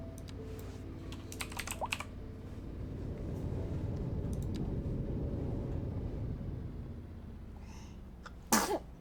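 A single loud sneeze bursts out near the end, after a stretch of low vehicle rumble and scattered clicking indoors.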